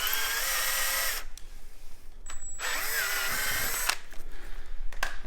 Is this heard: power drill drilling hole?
yes